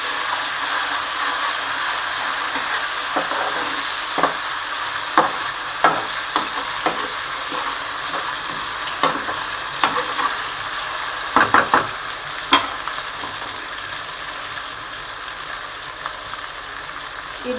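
Onions and tomatoes sizzle steadily in a pan for a chicken curry while a utensil stirs them, making scattered scraping clicks over the continuous frying hiss.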